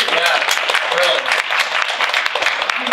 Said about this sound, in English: So round of applause, everybody.